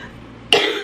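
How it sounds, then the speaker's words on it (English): A person at home coughs once, a short harsh burst close by after a brief quiet moment, followed by the start of another. "And coughing."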